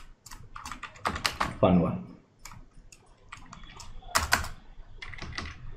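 Computer keyboard typed on while writing Python code, clicky keystrokes in short bursts mixed with someone speaking Hindi over them.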